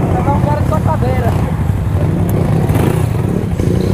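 Motorcycle engines idle and rumble loudly nearby as bikes pull in and park at a nighttime motorcycle meet, with people talking over the steady engine drone.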